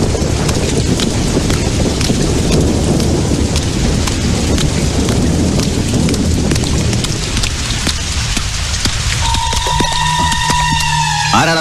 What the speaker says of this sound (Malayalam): എന്തൊരു മഴയല്ലേ